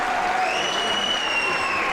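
A crowd cheers and applauds at the 2010 Sydney AFL Premier Division Grand Final between East Coast Eagles and Sydney University, a dense, sustained roar of clapping and shouting at steady loudness, with a whistle-like tone running through it.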